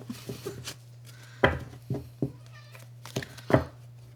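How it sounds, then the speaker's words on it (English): Several short meows from a pet cat named Blitz, spaced irregularly over a few seconds, fairly close and moderately loud above a steady low hum, with no talking. "That's my cat."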